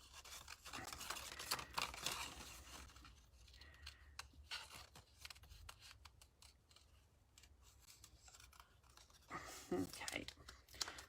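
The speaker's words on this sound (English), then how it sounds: "you can see that I'm turning the paper, not my scissors" Scissors snip through card paper for a poppy card craft, a run of short crisp cuts with pauses between them as the paper is turned. Someone talks quietly over the cutting.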